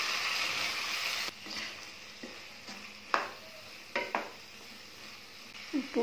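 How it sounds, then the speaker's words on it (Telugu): Potato and cauliflower pieces with chilli powder, salt and turmeric are tossed in a pan: a soft, steady sizzle broken by a handful of sharp spoon scrapes and clinks against the metal, fairly quiet and with no voices. "ఇవన్నీ ముక్కలకు పట్టే వరకు కలుపుకోవాలి."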